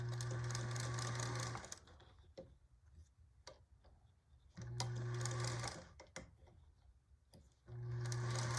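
A sewing machine runs in three bursts as it stitches bias binding around a curve, its steady motor hum and rapid needle ticking broken by short quiet gaps with small handling clicks.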